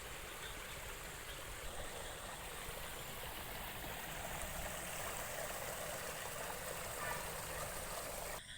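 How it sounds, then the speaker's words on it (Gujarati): Steady rushing water flows out of a farm field continuously, a broad even wash of stream-like noise with no breaks, moderately close and unaccompanied by voices. "ખેતરમાંથી પાણી પણ વહીને જાય છે"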